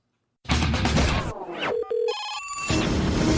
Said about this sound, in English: I think I see the phone ringing